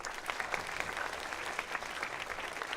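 Sustained crowd applause fills a youth conference hall for a speaker, dense and even clapping from many people with no pause, close and loud throughout.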